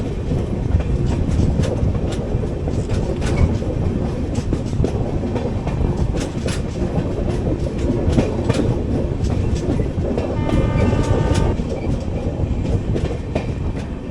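Kacheguda Madurai Superfast Express train rolling steadily along rails, a continuous close rumble with rhythmic wheel clatter at rail joints throughout, a few faint metallic squeals near the end.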